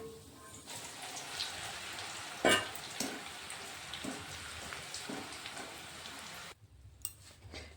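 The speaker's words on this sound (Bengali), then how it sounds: "তো এইভাবে আমি সবগুলো ভেজে নেব প্রথমে।" Boiled, smashed chickpeas frying in hot oil, giving a dense, even crackling hiss with a sharp clatter midway, before the sizzle drops away near the end.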